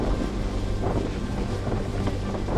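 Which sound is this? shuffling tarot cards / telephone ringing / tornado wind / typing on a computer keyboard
tornado wind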